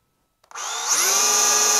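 A combi drill spins up abruptly from silence and runs steadily at maximum speed with the bit biting into material, a loud, close, high-pitched whine holding level after a brief rise.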